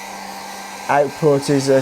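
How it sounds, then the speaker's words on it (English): A hairdryer runs steadily with a constant whooshing motor hum, close and fairly loud, while someone talks over it partway through; it is powered from a DJI Power 2000 portable power station. "we can pop that into there and switch the hairdryer on"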